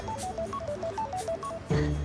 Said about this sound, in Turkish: Telefon, telefon çalıyor.